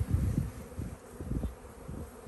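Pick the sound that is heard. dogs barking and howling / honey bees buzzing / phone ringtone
honey bees buzzing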